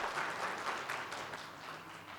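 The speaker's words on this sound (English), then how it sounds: "give a huge round of applause to all our panelists" Applause from the audience at a law and business panel discussion for the panelists, a soft, fairly distant wash of clapping that tapers off gradually toward the end.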